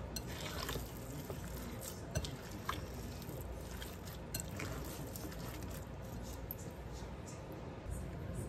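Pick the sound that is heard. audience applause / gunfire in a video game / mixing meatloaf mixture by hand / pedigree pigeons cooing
mixing meatloaf mixture by hand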